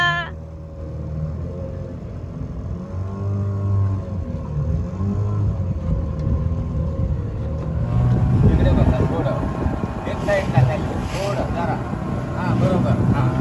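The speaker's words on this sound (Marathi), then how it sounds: "काकाने आता मोटर इंजिन चालू केलंय आणि आम्ही आता निघालो आहे फिशिंगला" The motor engine of a fishing boat setting out from Devbagh Beach in Malvan, a steady low drone that grows louder partway through, heard under people talking nearby.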